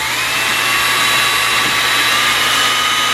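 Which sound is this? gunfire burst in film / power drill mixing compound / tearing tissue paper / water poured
power drill mixing compound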